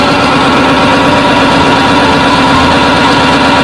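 Bulldozer diesel engine idling close by, a loud, steady, low rumbling drone with an even throbbing vibration that continues alone for the whole stretch.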